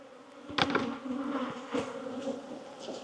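Honey bees swarm around a beekeeper working an open hive in a bee yard: a dense, steady buzzing hum throughout, with louder close passes as individual bees fly near.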